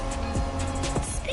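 Honda NSX sports car from the 1990s driving in the racing game The Crew Motorfest, a steady engine drone with a couple of brief tire squeals or gear shifts, close and continuous.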